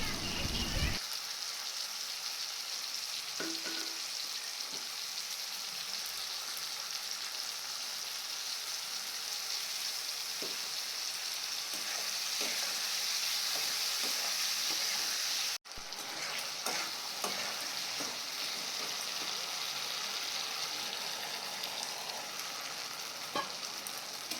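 Tomato, chilli and soy sauces being stirred together in a hot pan for chilli paneer give a constant bright hiss, with faint intermittent scrapes of a spoon underneath.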